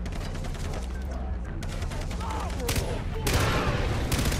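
Rapid bursts of gunfire in the video game Far Cry 3, aimed at a bear, crackle in a dense volley through the game's background noise, with a voice talking briefly.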